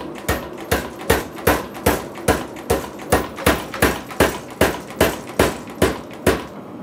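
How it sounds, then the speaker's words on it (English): A power hammer pounds hot steel to isolate the tang of a forged knife blade, with the work held in straight ring tongs. About fourteen loud, evenly spaced metallic blows follow in a steady rhythm, with nothing else heard. "I'm going to use the power hammer to isolate this tang"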